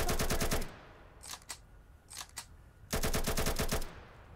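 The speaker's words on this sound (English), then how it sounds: "Can you not randomly shoot? That is very loud, sir." Roblox video game gunfire: two loud bursts of rapid automatic fire, one at the start and one near the end, with a few scattered single shots between them.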